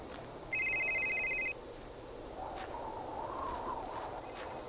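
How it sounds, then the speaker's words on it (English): A telephone rings in a horror video game, a bright electronic trill repeating steadily for about a second over a low, murky ambient drone, followed by faint eerie tones. "Where's that ringing coming from?"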